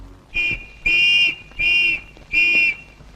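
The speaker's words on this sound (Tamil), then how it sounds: "நீ யாரு அங்க வந்து விசில் ஊதிக்கிட்டு இருக்க?" A whistle is blown four times in a steady rhythm, each shrill blast lasting about half a second, loud and close, with short silences between them.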